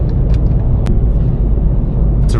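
BMW 540i with B58 engine cruising on a highway, a steady loud low rumble of road and engine noise inside the car with a couple of brief clicks.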